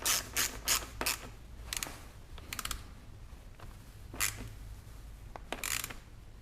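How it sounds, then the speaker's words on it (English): A hand ratchet clicks in short, sharp bursts while tightening down a motorcycle battery on an FE 501s, the quick pawl ratcheting repeating several times close by with pauses between strokes. "now we need to tighten our battery down"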